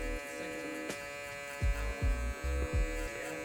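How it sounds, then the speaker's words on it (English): An electric shaver buzzes steadily during a mid fade haircut, a close, constant hum with several louder bursts as the blade presses against the hair, and no talk. "how high to take our electric shaver"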